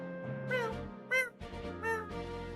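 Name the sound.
voice imitating a cat meow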